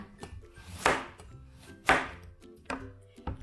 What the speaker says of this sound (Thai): ตัดครึ่งเสร็จแล้วก็หั่นแบบนี้ ทำเป็นชิ้นเล็ก ๆ แบบนี้ค่ะ